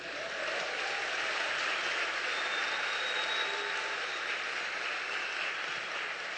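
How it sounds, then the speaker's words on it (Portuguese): A church congregation gives sustained applause to the Lord, a dense, even wash of many hands clapping heard from some distance, steady for over six seconds. "Dá um aplauso aí para o Senhor."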